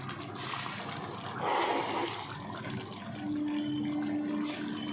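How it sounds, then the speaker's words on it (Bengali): Water is poured into a pan of chicken dopiaza, a broad splashing gush swelling midway and then settling into a steady trickle and bubbling, close by with no talk. "আমি একটু জল দিয়ে দিই,"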